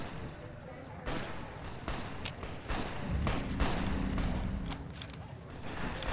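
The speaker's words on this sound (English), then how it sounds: "Shots fired." Gunfire in Fallout New Vegas, a string of sharp shots and booming impacts scattered over several seconds, fairly quiet and mixed under game ambience with a deeper rumble in the middle.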